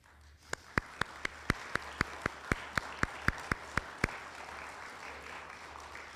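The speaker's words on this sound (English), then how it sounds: "Could all the current and past board members please stand up for a round of applause?" Audience applause for current and past board members at a senior center Veterans Day program, soft distant clapping underneath a dozen or so loud, evenly spaced close claps from one person that stop partway while the crowd keeps going.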